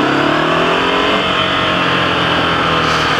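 Ducati Scrambler 800 motorcycle engine revving hard at high rpm, a steady loud close roar with rising and falling pitch through the whole stretch and no talk over it.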